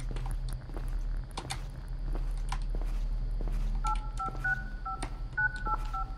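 Inside the video game Krampus is Home, a telephone is dialed, its keypad tones beeping in short pairs and runs over a low steady hum, scattered clicks and footsteps.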